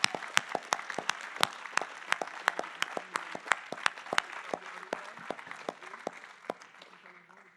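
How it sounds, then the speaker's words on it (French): An audience at an agricultural technology challenge applauds the 2024 prize winners, with crisp individual claps standing out from a moderate, slightly thinning round of clapping. "Bravo, on les applaudit encore plus fort."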